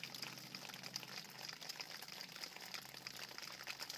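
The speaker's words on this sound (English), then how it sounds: "water dripping" Water drips and trickles through damp moss and ferns along a blue-blazed forest trail east of Case Mountain's summit. A very faint, bubbly, continuous trickle with soft irregular drops plays alone, with no voices.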